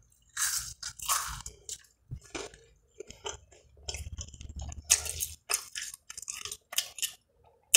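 Crunchy fried fast food from Rally's being chewed close to the mic, a run of loud, irregular bites and crunches with wet mouth sounds between them and no talking.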